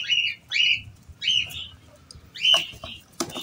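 Chickens and pigeons chirp and squawk in short repeated bursts close by while drinking water, with faint fluttering and scuffling in between.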